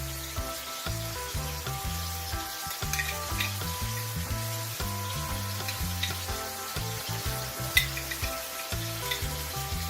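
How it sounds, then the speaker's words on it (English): Steady close sizzling and frying of minced garlic in honey in a hot pan, a dense continuous crackle with occasional stirring clicks and no talk. "Garlic that's in honey. I'm gonna put some in. That's minced garlic."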